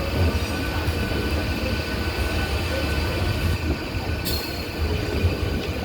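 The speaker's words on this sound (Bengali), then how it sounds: "এই ট্রেনটা কিন্তু আমাদের গ্যালোপিং ট্রেন" A Howrah to Digha EMU local train runs non-stop at speed, with a loud, continuous rail rumble, rattling carriages and a brief wheel squeal heard from on board.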